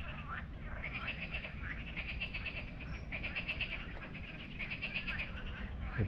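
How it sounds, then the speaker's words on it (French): Frogs croak steadily in a muddy, marshy stretch of the Orx marsh nature reserve in France, a continuous chorus of rasping calls from several frogs at moderate distance, with no speech over it. "Il y a plusieurs sons de grenouilles."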